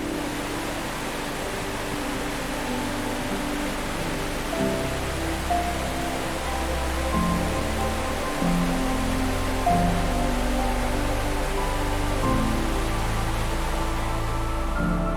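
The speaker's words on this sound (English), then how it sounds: "the sound of rushing water grows louder" Rushing water at Gitgit twin waterfall in Bali pours as a continuous broadband roar, steady and fairly loud, with a faint low hum beneath and no voices.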